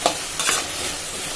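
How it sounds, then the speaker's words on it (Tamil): Vegetables sautéing on low heat for a fish curry, a soft continuous sizzle with a couple of brief spoon scrapes near the start, close and even throughout. "அப்படியே சிம்மில் வச்சு நல்லா வதக்கி விட்டுறலாம்."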